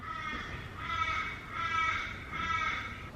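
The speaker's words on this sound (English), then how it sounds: "those birds" Crows caw repeatedly outdoors, four harsh, drawn-out calls in a steady rhythm at moderate distance, over a low background rumble with no talk.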